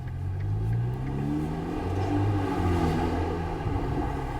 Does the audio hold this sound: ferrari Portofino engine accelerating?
yes